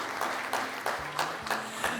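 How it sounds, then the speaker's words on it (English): Summit audience applauding a university team, fairly quiet and thin, with a few distinct sharper claps standing out over a soft bed of clapping. "how about a round of applause for Kobe and the whole team out of Coastal Carolina University"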